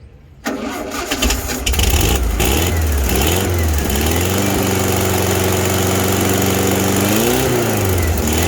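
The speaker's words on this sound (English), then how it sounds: "Well, it's idling." A 1974 VW Baja engine is cranked, catches and starts, then settles into a steady, loud idle with slight rises and falls in engine speed, close by.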